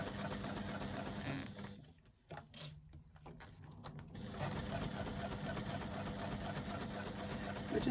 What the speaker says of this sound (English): I know my machine can stitch well